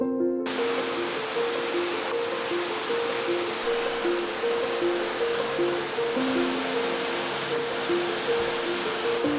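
Cascade Niagara waterfall in the north-east of La Réunion, near Sainte-Suzanne, roars as a steady dense rush of falling water, with faint tonal music playing underneath throughout.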